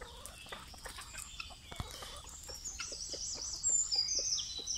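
Soft, scattered clucks from a rooster sound close by, with a few sharper calls and faint birdsong in the background.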